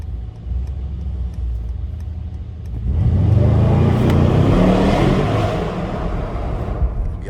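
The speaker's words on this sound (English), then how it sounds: "Actually, I'm gonna just give y'all a launch right here." A Mercedes-AMG GT63S launching at night, idling engine bursting into a loud, close, rising roar of hard acceleration that climbs through the revs and holds strong to the end.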